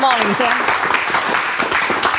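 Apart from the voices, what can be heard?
studio audience applause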